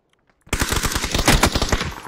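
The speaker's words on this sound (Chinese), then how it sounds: "他一枪没打到我，强哥你就打了我一枪头，给我爆头了" Rapid automatic gunfire in the PUBG battle royale game, starting abruptly after a brief quiet lead-in and continuing as a loud, dense burst of repeated shots close by.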